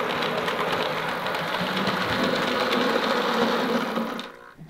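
A Bachmann model train locomotive with a tender runs in reverse on the workbench, giving a loud, steady mechanical whir and buzz of its small motor that stops abruptly near the end.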